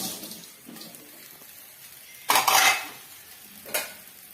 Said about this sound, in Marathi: तर आता सगळं एकत्र करून घेते.